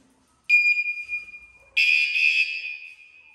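Bicycle anti-theft alarm emitting two loud shrill electronic tones, a steady high beep followed after a short gap by a harsher, buzzier blast, close and alone against silence.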